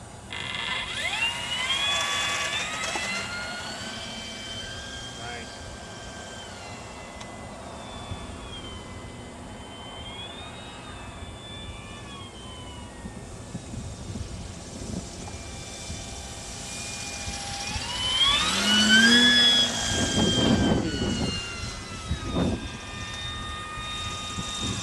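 Gyrocopter rotors spinning up for a quick takeoff, a continuous mechanical whine with rising and gliding tones and a rattling ratchet-like texture that swells louder near the end, heard without talk.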